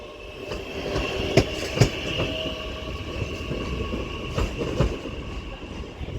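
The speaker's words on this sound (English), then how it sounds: "And this is off to Crewe now, this 323." A Northern Class 323 electric train pulls out of Manchester Piccadilly, a steady close rumble of wheels on rail with rhythmic clicks over joints and faint squeals, no talk.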